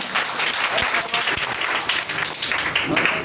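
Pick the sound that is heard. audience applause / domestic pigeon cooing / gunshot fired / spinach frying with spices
audience applause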